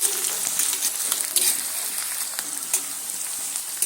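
Chopped onion and green chillies fry in a pan over low-medium heat, a dense, steady, close crackling sizzle that runs continuously with occasional brighter pops.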